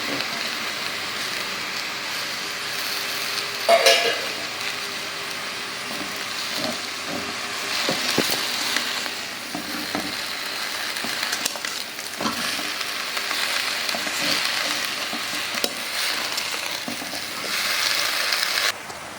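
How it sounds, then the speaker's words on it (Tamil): Coriander, curry leaves and mint sautéing in a pan over a gas flame, a loud continuous frying hiss with occasional spatula scrapes and clinks, close up and without voices. "கருவேப்பிலை கொத்தமல்லாம் சேர்த்து சும்மா 1 நிமிஷம் வதக்கியாச்சு"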